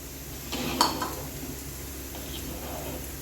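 Tamarind water poured into simmering mutton thalicha: a splashing pour and clink of a vessel early on, then a steady bubbling sizzle continuing close and moderately loud.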